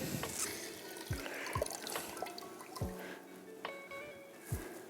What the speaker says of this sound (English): we're going to take the tea bag out, give it a nice wring, make sure you get all that good juices out of there